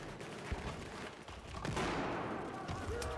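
Near-constant gunfire from a Battlefield 4 multiplayer match, a dense spray of overlapping shots that grows louder about halfway through and stays heavy to the end.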